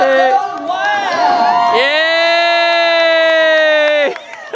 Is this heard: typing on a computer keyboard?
no